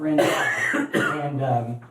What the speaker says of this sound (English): He's having a coughing fit right now.